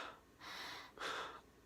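Two slow, breathy breaths with a rest between, air drawn in through the nose and pushed out through the mouth during a relaxed breathing exercise; close, soft and steady, no talking.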